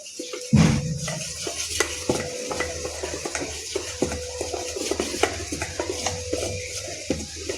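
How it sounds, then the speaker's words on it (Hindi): A spoon stirs Surti locho batter with Eno fruit salt in one direction, giving steady scraping and soft clinks against a steel bowl, repeated close up with no talking. "एक ही डायरेक्शन में से मिला लेंगे।"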